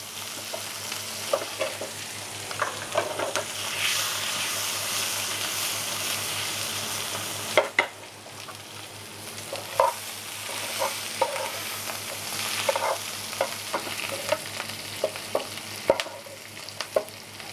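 Veal cooks in homemade wild garlic butter, freshly gathered in May, giving a steady close sizzle with intermittent scraping and stirring clicks throughout, and no voices.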